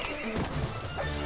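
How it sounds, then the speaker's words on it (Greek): A horse in the video game Mount & Blade Warband whinnies loudly as it is killed in battle, a short strained neigh mixed with hoof clatter and impact noise. "Μου σκότωσε τ' άλογο."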